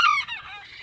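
A single loud, close honking squawk comes from a farm bird held in a ventilated crate, a short call that fades quickly.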